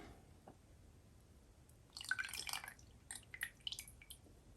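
Water dripping and trickling from a mass of wet peat moss, a faint close run of uneven drips and small splashes lasting a couple of seconds.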